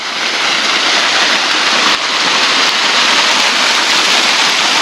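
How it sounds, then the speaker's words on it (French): A waterfall flows near reeds outdoors, giving a loud, dense, steady rush of falling water that runs on without a break and with no voices. "On a une belle cascade là."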